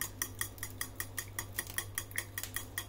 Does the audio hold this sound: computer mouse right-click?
no